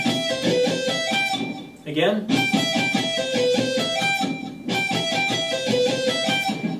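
An electric or acoustic guitar picks the final rapid notes of a lick, in two bright, ringing runs separated by a brief spoken word.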